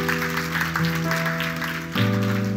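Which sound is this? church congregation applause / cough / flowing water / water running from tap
church congregation applause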